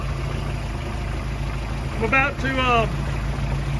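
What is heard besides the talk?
Mercruiser 3.0 liter four-cylinder marine engine running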